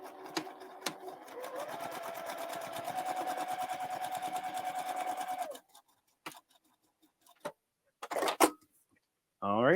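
A sewing machine stitches foundation paper pieced fabric in a steady whirring run of about five seconds, close and moderately loud, followed by scattered handling clicks and rustles.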